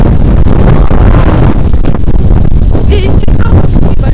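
Strong, stormy wind buffets the microphone in a loud, continuous roar with gusty rumbling, while someone talks over it outdoors.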